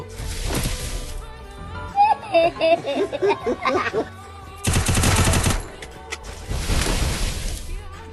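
Rapid bursts of automatic gunfire from a sniper-style shooting video game, loud and close, come in several dense volleys separated by short gaps, with excited speech and chuckling mixed in between.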